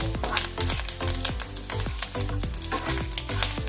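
Grated coconut sizzles and fries in a pan as it browns, a steady close crackle with stirring scrapes throughout.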